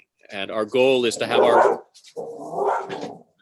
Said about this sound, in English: that was my dog seeing a squirrel that had run onto the